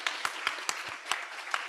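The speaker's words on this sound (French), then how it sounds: "Allez, allez, on applaudit bien fort." Applause from a crowd at a conference on Europe at the Institut Jacques Delors: brisk, evenly spaced claps that ring out loudly over a short burst.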